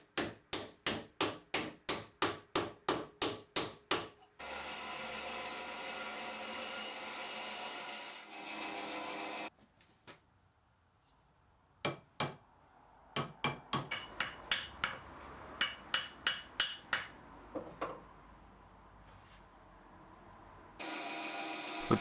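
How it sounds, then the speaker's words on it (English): A wedge is hammered into the wooden handle of an axe head during restoration: bursts of sharp, evenly spaced close hammer blows alternate with stretches of rasping or sawing on wood, without speech. "I could bash a wedge in."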